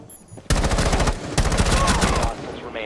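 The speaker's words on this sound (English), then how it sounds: "my teammates like to freaking shoot me" Rapid automatic gunfire from Rainbow Six Siege rattles in two loud, close bursts of evenly spaced shots, with a short gap between them and quieter game sounds before and after.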